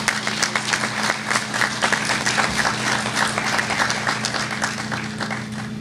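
A crowd at a credit union branch grand opening celebration in San Pedro breaks into sustained applause, a dense, even clatter of many hands at steady volume over a low background hum.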